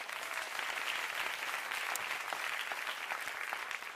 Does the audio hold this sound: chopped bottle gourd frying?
no